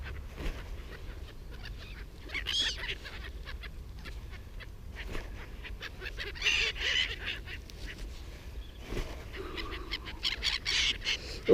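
Seagulls being fed peanuts and crackers in a wood call out in repeated squawks and honking cries, moderately near, scattered irregularly across a quiet outdoor background with no talk.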